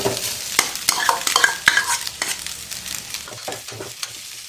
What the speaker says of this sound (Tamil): இப்போ நம்ம சாதம் போட்டு கலக்கிக்கலாம்.